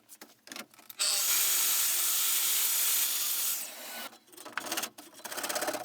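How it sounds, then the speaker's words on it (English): A plunge saw cuts corner cutouts in wood for a hallway cabinet, a loud burst of harsh, roaring cutting noise lasting about three seconds, framed by quieter scraping and handling sounds before and after. "my plunge saw to make the corner cutouts"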